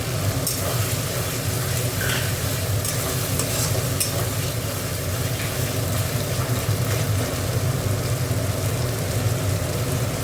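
Green peas sizzle and fry in a pan while being stirred during Bengali home cooking, producing a steady, close, dense crackle with scraping stir sounds throughout and no talking.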